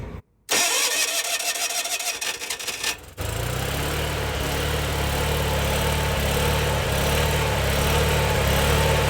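A GMC motorhome's engine cranks briefly, catches on a second try and settles into a steady, loud rumbling idle that runs on alone.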